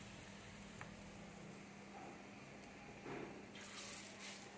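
Lentil and cauliflower fritters fry in a little oil on a flat tawa over a low flame, giving a quiet, steady sizzle with soft bubbling and a slightly louder crackling burst near the end.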